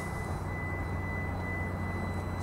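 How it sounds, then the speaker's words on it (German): An EV charging station humming while charging an Opel Ampera-e, a steady droning whir with a faint high whine, constant and close with no talk. "Das Geräusch macht übrigens die Säule hier."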